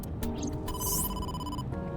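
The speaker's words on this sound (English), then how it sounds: "I am receiving a call from headquarters." A phone rings in the Ai: The Somnium Files video game, with a bright electronic ringtone trilling steadily over a low game background hum, heard without talk.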